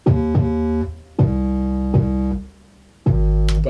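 Synth bass line from a band's chorus, playing loud sustained harmonic notes in a choppy rhythm of four phrases with short gaps, alone with no talking.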